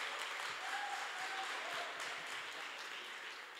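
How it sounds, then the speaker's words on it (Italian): Steady applause from an audience, a dense wash of many hands clapping that holds evenly for a few seconds before easing slightly. "Un applauso ai 5 volontari"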